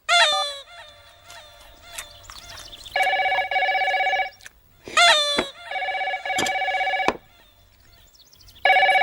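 A telephone ringing in a Telugu comedy film scene, long repeated electronic trilling bursts separated by short gaps, loud and clear among other brief tonal sounds.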